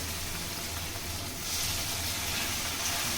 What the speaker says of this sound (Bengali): এবার কড়াতে আমি সাদা তেল বসিয়ে দিয়েছি, এবার সবগুলো আস্তে আস্তে করে ভেজে নেব